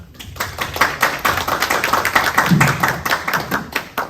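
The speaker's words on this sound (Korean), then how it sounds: "우리 김영기 대표님은 힘찬 박수로 초대드리겠습니다." An audience at a lecture on AI and patent filing claps to welcome a company head to the stage, steady dense clapping sustained for several seconds, close and fairly loud.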